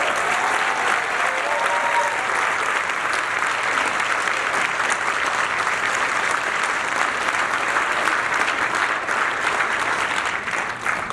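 Sustained audience applause for Tito, Marlon and Jackie Jackson at a Hard Rock Casino celebration in Gary, Indiana, a dense steady wash of clapping that stays loud for about eleven seconds and tapers slightly at the very end.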